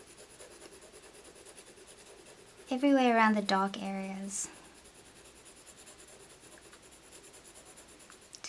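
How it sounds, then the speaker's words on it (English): Colored pencil shading on paper with the side of a Burnt Ochre pencil, a gentle, steady scratchy rubbing heard close, with someone speaking briefly over it. "Just use the side of the pencil and sort of just color in those areas gently."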